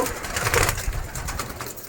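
A Kalshira pigeon coos softly in a loft, a short, low, throaty call heard close by with no talk over it.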